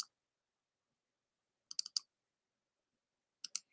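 Computer mouse clicking during an online session, two short bursts of quick sharp clicks separated by silence, close and quiet with no talk.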